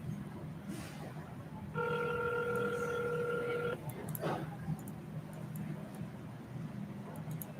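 A phone call goes out: a short burst of dialing tones, then a steady two-second ring tone, followed by faint clicks over low background hum.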